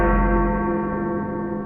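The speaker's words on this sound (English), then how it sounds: "I decided to introduce the sound of a large bell" A single deep bell tone rings out, its rich overtones fading slowly in a long, resonant decay.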